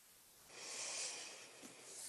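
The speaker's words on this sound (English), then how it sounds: "Breathing in and out, 5 breath cycles." During a gentle mat yoga session, a person takes a slow, audible breath close to the microphone, a soft airy hiss that swells and then eases off, with no talking.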